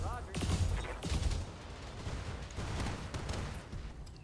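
Weapons fire from a precision strike in the Battletech video game, a burst of heavy booming impacts and gunfire at moderate level with a voice speaking over it.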